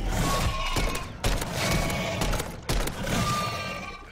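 A sniper rifle in Call of Duty MW3 Zombies fires three heavy booming shots about a second and a half apart, each with a long rolling tail, loud and close.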